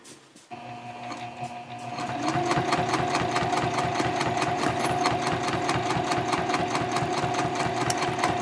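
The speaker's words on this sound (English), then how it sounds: "And then I'll pivot again and sew up the second side." A sewing machine stitches along the side of a messenger bag, starting after a brief pause and then running steadily with a fast, even mechanical rhythm, close and loud throughout.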